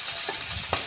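Mussels frying in a pan while being stirred, a close continuous sizzle with a couple of brief scraping stir sounds over a second.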